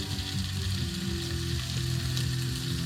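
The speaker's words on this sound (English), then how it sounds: "Salt fish going on the fryer" Salted trout, fresh-caught at Big Bear Lake, fries in a fryer with a dense, continuous sizzle and crackle of bubbling oil, steady and close throughout.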